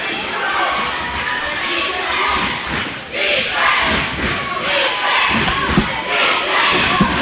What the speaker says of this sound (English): And the crowd is chanting for defense.